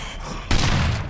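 A single loud, close 12-gauge shotgun blast in the zombie shooter Daymare 1998 bursts out of a low ambient hum.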